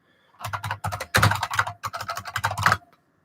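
Bursts of fast typing on a computer keyboard, close and fairly quiet, with short pauses between rapid runs of key clicks and no voices.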